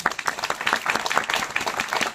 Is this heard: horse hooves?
no